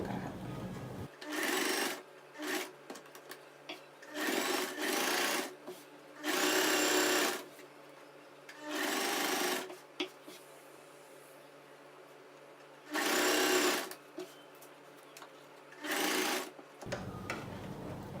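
A sewing machine stitches saree falls in short bursts, about eight runs of rapid whirring separated by brief pauses, close and steady with no talk.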